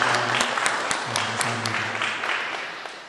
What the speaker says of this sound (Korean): 우리 예배를 받으신 하나님께 감사와 찬양의 박수 올려드리겠습니다